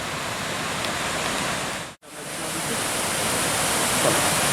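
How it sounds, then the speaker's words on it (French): A mountain waterfall just below a lake roars steadily nearby, a loud continuous rushing wash with one brief dropout midway, and no talk over it. "Et la cascade est franchement magnifique. On est juste à côté là."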